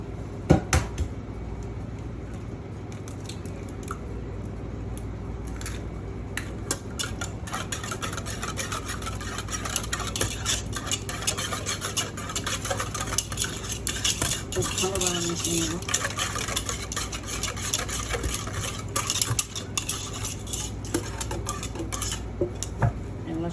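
An egg is stirred into white béchamel sauce for baked toast, producing a continuous run of clinking and scraping utensil-on-bowl strokes, fairly close and steady, with no voices.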